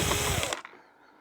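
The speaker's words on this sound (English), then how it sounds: "let's pull those screws out" A power driver whirs briefly as it backs self-tapping screws out of the cover of a cheap Anko vacuum cleaner, one loud close burst that cuts off sharply into quiet handling noise.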